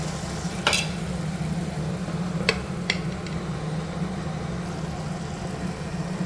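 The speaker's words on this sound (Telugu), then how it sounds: "సిమ్లో పెట్టేసి దీన్ని ఉడకనిద్దాం కాసేపు." Prawn fry cooking in a pan on a low flame, giving a steady, quiet sizzle with a few brief clinks or stirring sounds over it, and no talking.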